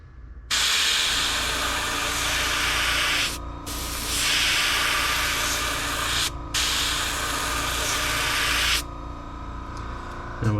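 Airbrush spraying paint onto a fishing lure: three long, close, loud airy hisses separated by two brief pauses, with no talking over them.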